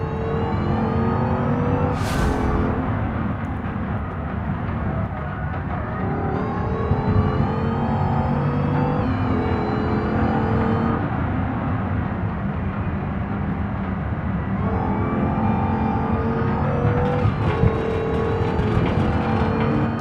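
An American race car in a racing video game drives with fading brakes, its engine droning continuously at high revs, with gear shifts and pitch changes, close and loud throughout without speech.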